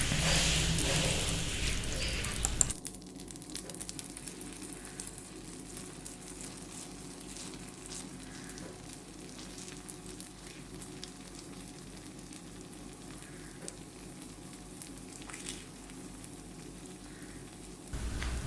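Apple snack batter frying in ghee in a pan, a steady soft sizzle with faint crackles throughout, preceded by a brief louder burst.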